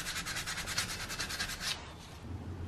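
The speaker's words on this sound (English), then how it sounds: "The old flywheel was dirty and rusty, so I cleaned it with wire brush and some sandpaper." Wire brush and sandpaper scrubbing a dirty, rusty flywheel from a 212cc Predator small engine: about ten quick rhythmic back-and-forth strokes, loud and close, that stop abruptly partway through, leaving quiet room noise.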